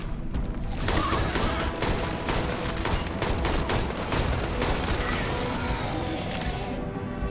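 Rapid bursts of gunfire from a big gun in the Starfield video game, a dense string of sharp shots rattling over a steady loud background for several seconds.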